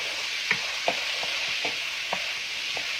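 Red and orange peppers frying with tomatoes in a pan, a steady close sizzle throughout with several soft stirring knocks and clinks spaced across it.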